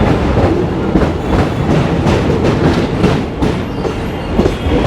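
The Shramjeevi Express, hauled by a WP7 locomotive, rolls along with a loud, continuous rumble and rhythmic clickety-clack of wheels over rail joints, heard close from aboard the train.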